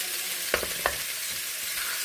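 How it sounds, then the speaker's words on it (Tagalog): Steady, hissing sizzle of beef frying in a hot pan, with a couple of brief scraping stirs near the start. "So itong beef ilalagay natin dito. Prito muna natin sandali."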